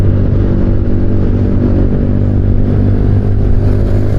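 Loud, noisy exhaust of a New Mega Pro motorcycle riding on the road, a steady low engine drone with rough pulsing throughout, close and continuous.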